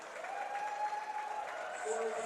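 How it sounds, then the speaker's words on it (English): A crowd at a college swimming and diving meet between Southern Connecticut State and College of Staten Island, steady applause and cheering after a dive, continuous and moderately loud with an announcer's voice over it. "This crowd is getting hyped for Malarkey."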